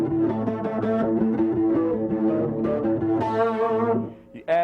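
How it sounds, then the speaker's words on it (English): A bass guitar plays a sustained, swirling line through flanger and distortion pedals, gritty and loud, before a brief dip and a final burst at the end. "You take that, you add some flanger to it, to the distortion."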